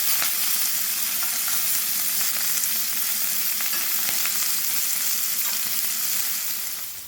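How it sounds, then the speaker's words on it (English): Wild game meat searing in a hot skillet, a steady, dense, loud sizzle that carries evenly throughout with faint crackles and no talk. "drop it in our hot skillet. You wanna be careful not to overcrowd the pan. We're gonna let these get a nice sear"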